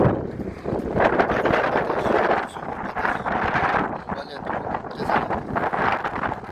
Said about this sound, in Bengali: দেখেন বাতাস সবখানে,